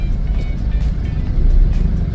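Slow car traffic on a road in Cebu rumbles steadily, with a low engine drone and passing vehicle noise, fairly loud and continuous.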